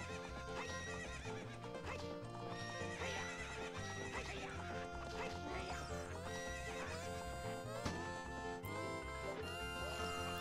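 In the video game Ocarina of Time, a horse neighs and its hooves clip-clop steadily under a dense, continuous layer of game music and sound effects, with no one speaking.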